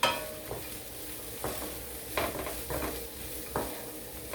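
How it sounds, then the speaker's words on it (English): Bell peppers sauteing in a pan for a beef stir fry, a soft steady sizzle broken by a few stirring scrapes and utensil knocks against the pan, fairly quiet with no talk. "I'm going to throw my bell peppers in, all of them. We're going to get them sauteed."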